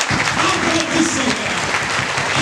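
Audience clapping in a church service or prayer gathering, dense and steady applause with a voice and a sung or chanted tone over it.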